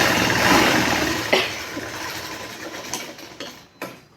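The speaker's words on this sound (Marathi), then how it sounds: "आपण मग चार टिपा मारून घेणार आहोत" A sewing machine runs fast while stitching the fitting tucks on a blouse at the waist, a loud whirring burst that slows and trails off into a few separate mechanical clicks and clunks.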